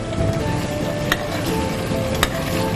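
Chicken fries in a pan with sauce, giving a steady close sizzle with a couple of sharp ticks of a utensil against the pan.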